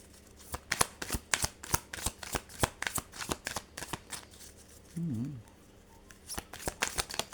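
Tarot cards are shuffled in a steady series of crisp, riffling snaps, close and clear, with a brief voiced hum partway through.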